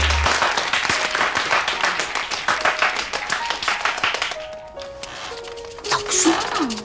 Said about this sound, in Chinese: 此处应该有掌声了啊